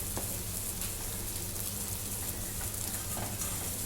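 Mutton masala sautéing in a pan gives off a loud, unbroken sizzle and frying hiss, with occasional soft stirring scrapes and no voices.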